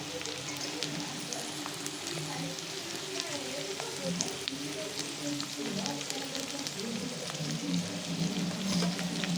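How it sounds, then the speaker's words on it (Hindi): Green chillies frying lightly in a pan give a soft continuous sizzle with light crackling throughout, under a low hum and faint background voices. "और हरा मिर्चा मैंने डाल लिया है, और बस ज़्यादा मैं नहीं भूनूंगी, हल्का सा भूनूंगी ताकि इसका कच्चापन निकल जाए।"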